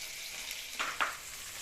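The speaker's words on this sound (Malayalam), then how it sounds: "മീൻ കറി തിളച്ചുകൊണ്ടിരിക്കുന്നു." Fish curry of mackerel simmers in a pan with a soft, steady bubbling sizzle, two slightly louder pops standing out near the end, with no talking.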